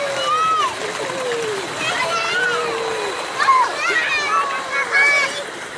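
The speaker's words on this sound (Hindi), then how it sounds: "बाकी मैं खुद भी नहा रहा हूँ।" Cold water splashes over a person bathing outdoors near neem trees, with steady running and splattering water throughout and high-pitched children's voices and chatter over it.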